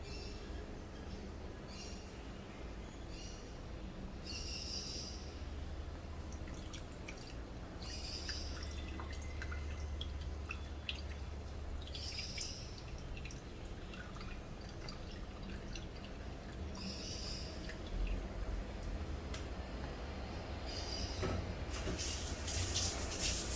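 Tamarind juice pouring into a pot of Hyderabad vegetable dalcha, a steady liquid trickle and dripping that carries on through the clip over a low background hum, with no talking.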